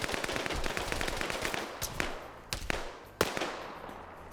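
Rifle gunfire in an Arma PvP match, a rapid burst of shots followed by a few isolated sharp cracks, moderately faint.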